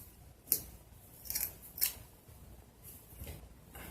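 Scissors snip through curtain fabric for a no-sew curtain in three or four crisp, separate cuts spaced across a quiet background, each sharp and close.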